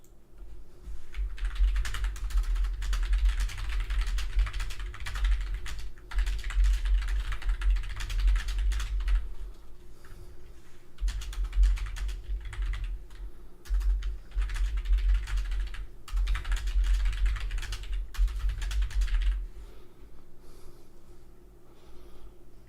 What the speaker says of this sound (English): I typed in Ariel's tweet on Twitter.